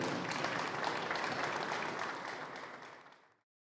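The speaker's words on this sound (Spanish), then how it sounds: "con este aplauso enmarcamos, por supuesto, este momento" Audience applause at a regional education press conference after a document signing, a dense, steady burst of clapping that tapers off and ends abruptly.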